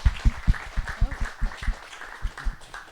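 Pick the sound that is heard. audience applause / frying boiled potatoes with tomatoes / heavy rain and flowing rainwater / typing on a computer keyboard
audience applause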